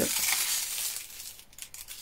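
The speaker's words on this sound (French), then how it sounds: "on va enlever notre feuille de foil" Crinkly, crackling rustle of a thin craft foil sheet being peeled away, loudest at first and tapering into softer scattered crackles, close to the microphone.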